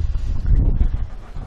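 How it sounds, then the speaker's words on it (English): Low, blustery Central Oregon wind buffets the microphone outdoors in a steady rumble with no one speaking. "Sorry about the wind."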